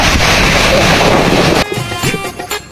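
Strong gusts of wind buffet an outdoor microphone with a loud, continuous roar; partway through, the rumble drops slightly and uneven bursts of buffeting continue.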